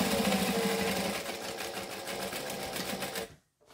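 Sewing machine stitching fabric during a sewing tutorial for a Melona pattern, running in a steady close rhythmic whir for over three seconds before stopping abruptly near the end.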